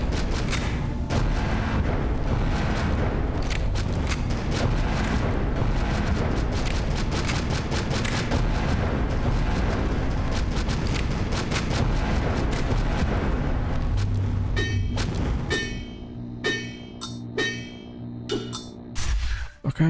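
Rocket launcher explosions in the video game Astroswarm, a dense barrage of booming blasts and rapid impacts filling most of the stretch, then thinning out into scattered separate bangs near the end.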